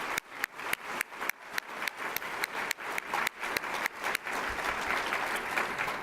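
Luncheon audience applauding sponsors, a fairly sparse start of distinct individual claps that thickens into steady, fuller clapping from a room of seated guests, with no talking over it.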